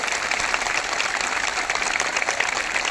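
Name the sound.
crowd clapping loudly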